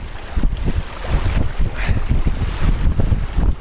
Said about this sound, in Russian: Вот видите, какой поток.